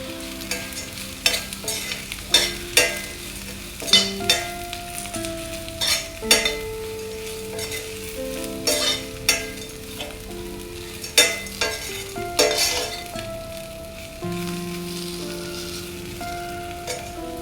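Bitter gourd fry gets stirred in a pan with pounded chili powder, a spatula scraping and clanking in uneven bursts over a soft continuous sizzle, close and without speech.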